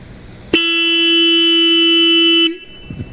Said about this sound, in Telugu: ఇక హార్న్ ఒకసారి హార్న్ సౌండ్ అయితే వినండి మీరు.